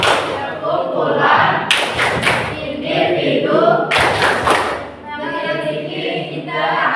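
A classroom hand-clapping chant: two bursts of sharp group claps between stretches of chanted voices, loud and close.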